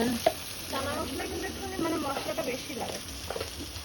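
Garlic and ginger paste dropped into hot oil for a chana paneer dish: a soft, crackling sizzle with stirring scrapes, heard close, with a voice faintly underneath.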